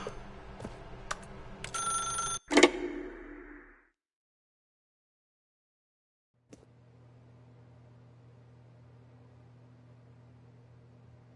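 Telephone ringing in the video game It Takes Two, a bright electronic ring and clatter for a few seconds, then a sudden cutoff to silence followed by a low steady hum.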